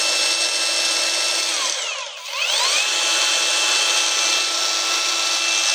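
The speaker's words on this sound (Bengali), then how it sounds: "ব্যাটারি চালিত গ্রাইন্ডিং মেশিন।" A battery-powered cordless grinding machine runs steadily and loudly for the whole stretch, with a high whining motor tone that briefly dips in pitch and level around the middle, as if loaded, before climbing back to full speed.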